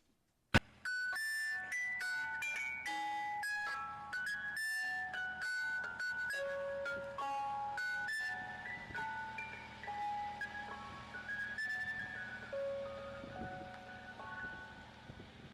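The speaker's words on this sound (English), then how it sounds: "That the ice cream trucks in Australia play that tune." An ice cream truck in Australia plays its tinkling melody, a bright chiming tune of repeated notes running steadily and fairly faint for about fifteen seconds, with no talk over it.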